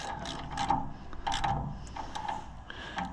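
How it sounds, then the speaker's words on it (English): Clicking of a Craftsman ratchet with coarse, widely spaced teeth, a handful of loose mechanical clicks in short bursts close by, with no talking. "Come on, Craftsman ratchet with the coarse teeth."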